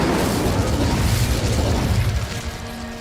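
An Incendio fire spell cast in Hogwarts Legacy bursts into a loud, dense roaring whoosh that holds steady and then thins slightly toward the end, close and without talk.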